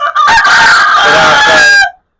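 A Brahma rooster crows loudly and close, one long drawn-out call lasting nearly two seconds, with no talking around it.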